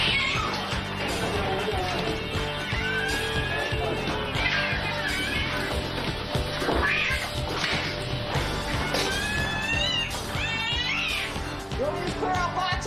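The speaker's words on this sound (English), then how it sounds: "Investigator Mark Ramos suffers the full brunt of one cat's fury" An angry cat yowls and caterwauls during a rescue from an extreme hoarding house, with loud, sustained rising wails and bursts of crashing scuffles over a noisy background.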